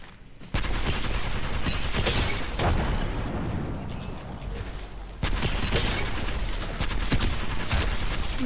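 Heavy gunfire hitting the player in Apex Legends, loud rapid bursts of shots and impacts crackling almost continuously, with a short lull before the firing resumes at full force.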